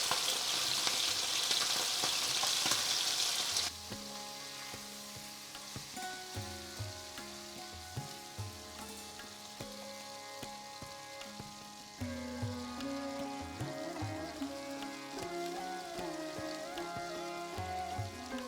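Oyster chilli chicken sizzles steadily in oil in a stir-fry pan, a dense continuous crackle throughout, with soft background music under it and a brief louder hiss at the start.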